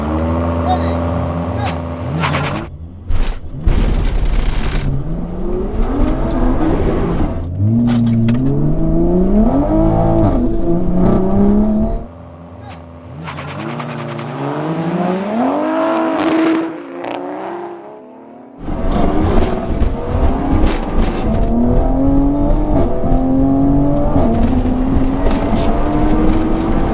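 Mk5 and Mk4 cars accelerate hard in a drag race, engines rising in pitch through several gear changes in two loud runs separated by a brief quieter pause.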